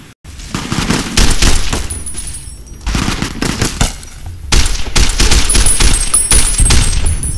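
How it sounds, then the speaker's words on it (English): Bursts of rapid automatic gunfire from the video game Fallout New Vegas, loud and close, firing in several sustained volleys separated by brief pauses, with no talking over it. "I barely shot this gun."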